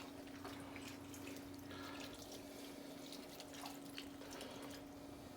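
About 1.5 cups of water is poured into a slow cooker around a pot roast with onion soup mix, a faint steady trickle and splash over a low hum, with no talking.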